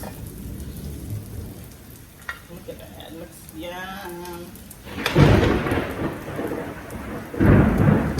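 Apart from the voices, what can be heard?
thunder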